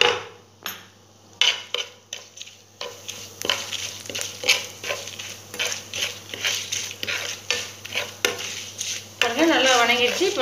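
Spoon scraping and clinking in a pan as spice powder is stirred into rice, a string of irregular close-up strokes ending in a brief sizzle, with faint speech in the background.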